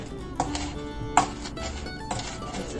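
A knife chops finely through cilantro leaves on a board, three crisp, well-spaced strikes, each followed by a soft scraping rustle, heard up close with no talk.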